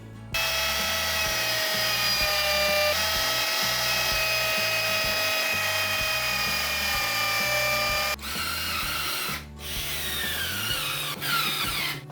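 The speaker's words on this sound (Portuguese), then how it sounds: "Agora eu vou fazer 3 furos para fixar essa parte." A power drill bores three holes to fasten a part of a wooden shoe rack, giving a steady high whine for about eight seconds that then breaks into short bursts and pauses, close and loud with no talk.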